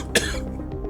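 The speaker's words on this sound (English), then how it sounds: "Cough." A single short cough, close and clear, cuts through a quiet background.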